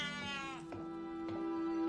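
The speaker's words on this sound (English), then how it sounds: "Cat's freaking out." A distressed cat yowling in a horror film scene, a drawn-out wavering cry that bends in pitch, close and loud, heard alone.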